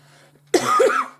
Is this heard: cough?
yes